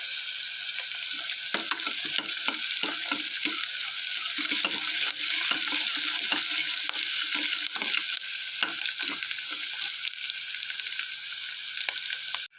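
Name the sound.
onions and cashews frying in a pan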